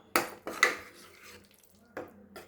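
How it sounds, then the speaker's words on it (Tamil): A plate set down as a lid over a pan of chicken fry, giving two sharp close clinks in quick succession, then a quieter metallic tap after a pause. "தட்டு போட்டு மூடி"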